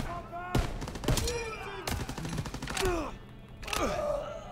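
Bursts of gunfire in the Call of Duty WWII D-Day Normandy landing mission, sharp loud shots at irregular intervals, with groans and chaotic battle noise between them.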